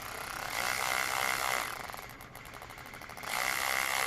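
A Ryobi USB lithium cordless ratchet runs with a steady buzzing whir, slowing and dipping in the middle as the variable-speed trigger eases off, then speeding back up, close and alone with no talking.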